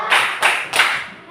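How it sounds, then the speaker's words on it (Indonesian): An audience claps hands at a school teachers' event in Indonesia, three short bursts of rhythmic group clapping in quick succession, fairly close and loud, with no talk over them. "Terima kasih, kita berikan tepuk ya, tepuk hebat."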